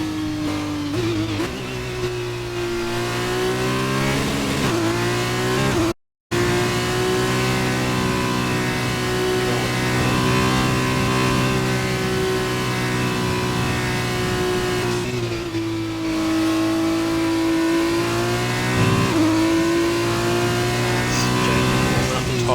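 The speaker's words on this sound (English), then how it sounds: "On board with Jay Nickel at the moment, running around on his outlap, just trying to get a feel for the car" A Formula 2 race car in a video game revs and runs a lap of the British circuit, engine note rising and dropping with gear shifts at close range, loud and continuous, with a brief dropout and commentary over it.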